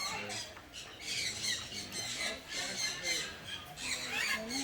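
Conure parrots at a parrot park in Pigeon Forge, Tennessee, squawk loudly in repeated harsh bursts close by, several birds calling over one another.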